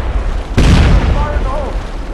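A frag grenade detonates in the SOCOM 4 multiplayer beta, a sudden loud boom with a rumbling, crackling tail that fades over about a second and a half. Faint game radio chatter sits behind it.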